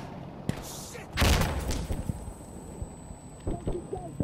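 A grenade blast in a video game, one loud, deep boom followed by scattered gunshots and thumps, with players talking.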